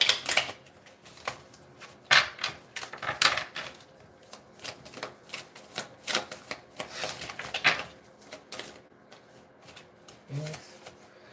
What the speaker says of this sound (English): I'm going to pull one more card here